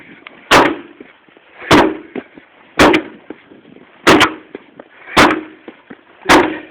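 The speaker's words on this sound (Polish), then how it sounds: "Polskie zamykanie drzwi!" A door slammed shut six times at steady intervals of about a second and a quarter, each a loud, sharp bang with a short rumble, with faint background noise and no talking.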